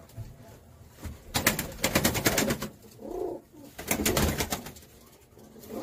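Racing pigeons give a few close, low coos mixed with bursts of rapid fluttering wingbeats in quick clattering pulses, loud and near, with brief gaps between bursts.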